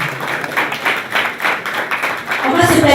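Audience applause welcomes a contestant at a slam poetry final, with bursts of clapping rising and swelling, and a voice joining near the end.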